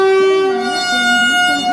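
A train horn sounding at a railway station, one long loud steady blast held for nearly two seconds, close and dominant, with faint background murmur.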